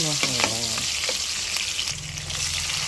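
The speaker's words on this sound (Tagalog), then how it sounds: "Pasutay tayo ng bawang. Sibuyas." Garlic and onion hit hot oil in a pan and sizzle with a steady, crackling fry, close and fairly quiet, with a brief stir and scrape near the start.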